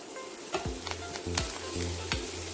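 Seafood and vegetables sizzle and fry in a pan for a teriyaki stir fry. A utensil scrapes and clacks against the pan in brief strokes while the steady sizzle carries on underneath.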